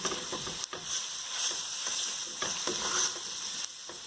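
Brown chickpea chana masala with garam masala and red chili powder fries in a pan, giving a faint, steady sizzling hiss broken by a few soft stirring scrapes, with no voices.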